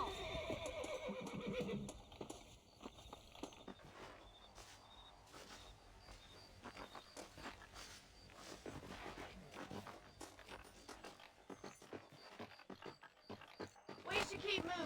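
Horses in the video game Red Dead Redemption neigh and whinny amid clopping hooves, with game music and character voices talking over them throughout.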